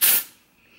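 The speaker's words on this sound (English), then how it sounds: "I'm gonna go ahead and use some of the dry shampoo" A single short hiss of Amika dry shampoo sprayed into hair, close and sharp, then quickly fading into quiet.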